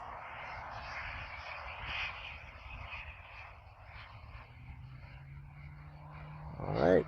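A giant radio-controlled T-38 Talon scale model jet flying, a faint, distant steady turbine whine and whoosh that swells louder at the end.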